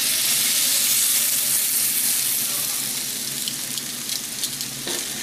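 Steak and onions frying in a cast iron pan, a loud, steady sizzle with crackling spatter that eases slightly toward the end, alone without talk.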